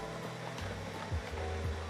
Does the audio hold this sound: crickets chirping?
no